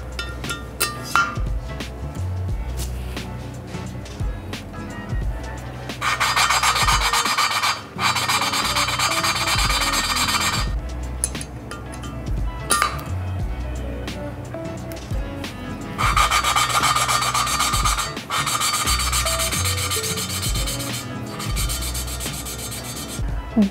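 Valves being lapped into their seats with grinding paste on a Volvo 2.5T cylinder head, close gritty rubbing and rasping in repeated back-and-forth bursts with short pauses.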